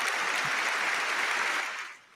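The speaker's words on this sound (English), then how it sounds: "Give me a round of applause." A room of people at an indoor talk session breaks into steady, dense clapping that holds for about two seconds, then fades away.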